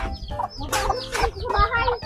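Several chickens clucking and squawking close by in a backyard, overlapping bursts of agitated calls in quick succession.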